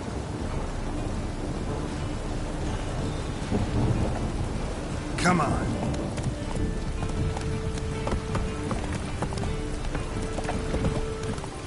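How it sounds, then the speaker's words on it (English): Rain pours steadily with a loud, close thunderclap near the middle in The Witcher 3 video game, horse hooves clopping underneath and a brief spoken line. "Rain again."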